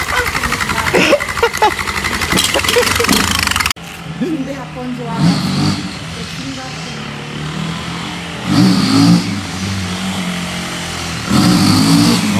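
A Honda XRE 300 motorcycle engine revs and pulls away into the distance, with people talking and shouting over the engine noise outdoors.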